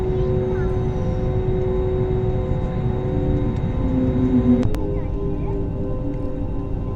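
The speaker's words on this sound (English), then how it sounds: "here is another spice jet landing" A SpiceJet airliner landing at Kempegowda International Airport in Bangalore, heard from inside another aircraft waiting near the runway: a steady engine roar and drone with a brief louder swell, under cabin noise.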